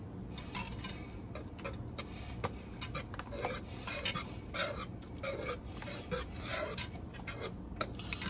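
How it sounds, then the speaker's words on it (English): Wire whisk beating a broccoli, rice and cheese casserole mixture with cream cheese chunks in a bowl, a steady run of quick clicking, scraping strokes close up with no talking. "get the whisking"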